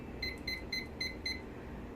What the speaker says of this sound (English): So what I'm going to do is set my little timer here.